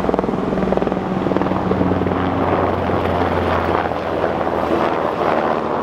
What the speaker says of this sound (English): Look how low this helicopter is right now.